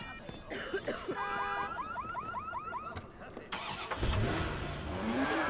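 A car in the Watch Dogs video game starts up with rising chirping electronic tones, then a sweeping engine rev near the end, while someone talks over it.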